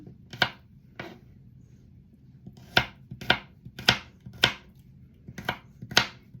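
Knife chopping garlic on a board for a tilapia fish curry, about nine crisp, sharp strikes in an uneven rhythm with pauses, close and clear over a low background hum.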